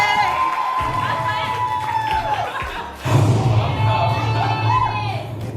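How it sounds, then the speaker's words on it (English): A crowd at a Bitcoin graduation and anniversary celebration cheers and shouts, with voices rising into a louder burst partway through. Scattered thumps sit in the background, but the clapping itself is hard to pick out. "you will need a really loud round of applause"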